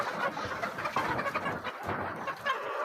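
Several roosters cluck and chatter close by on a farm, short overlapping calls repeating in an irregular rhythm.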